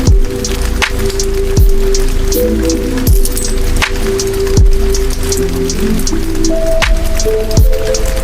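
Steady, loud rain pours down during a bicycle ride, a dense continuous hiss with periodic clicking ticks and a faint tonal hum running through it, with no speech.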